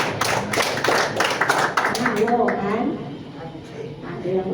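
A group claps along in an Indonesian counting clap game during a classroom warm-up, with bursts of sharp claps early on that thin out as voices and chatter take over.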